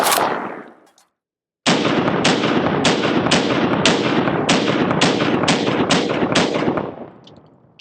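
Rapid 5.56 rifle fire, 45 grain loads from a SAM 594 with a 16-inch barrel, striking a Level IV multi-curve lightweight armor plate: about ten loud, sharp cracks in a steady quick rhythm, close and dominant, ending in a fading tail.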